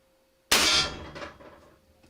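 A single sharp blast from an Hp-Max .51 caliber air pistol, loud and close, with a sudden onset and a short ringing decay.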